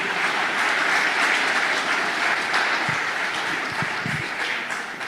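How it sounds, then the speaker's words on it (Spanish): Church congregation at a Spanish-language service clapping steadily for about five seconds, a dense, even wash of applause filling the room throughout. "Dale palmas al Señor"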